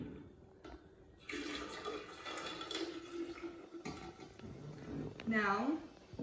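Pink lemonade poured from a container into a Moscato-based Giggle Juice drink mix, a steady splashing, gurgling pour running for several seconds near the microphone, with a brief voice near the end.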